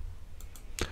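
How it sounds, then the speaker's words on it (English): A single sharp mouse click on a save button, close and brief, following two fainter ticks, over a low background hum. "Let me click on save."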